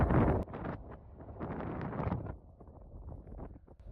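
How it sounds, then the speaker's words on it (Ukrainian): Strong gusts of wind on a mountaintop buffet the microphone in rough bursts, loud at first then easing into uneven rushing. "Вітер на горі сильний."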